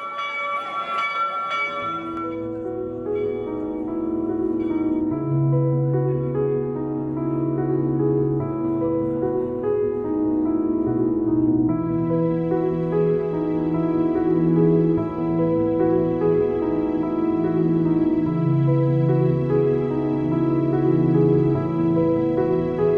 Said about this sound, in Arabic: قرعت أجراس الكنيسة لأول مرة بعد تدميرها